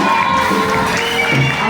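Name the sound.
congregation cheering and shouting for joy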